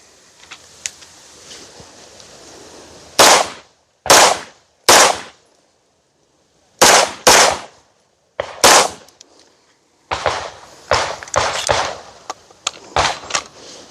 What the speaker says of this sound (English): Let's keep shooting it.